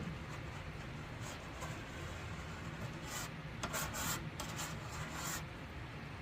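Muck being scraped off the plastic strips of a Festool saw rail, a close, quiet continuous rubbing and rasping with brief sharper scrapes in the middle.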